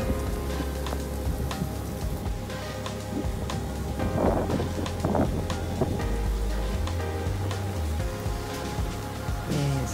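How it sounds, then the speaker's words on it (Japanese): Heavy typhoon downpour pours steadily and loudly for the whole stretch, a dense close hiss of rain with gusty wind and a few heavier splashes, and no voices. "すごい雨です。"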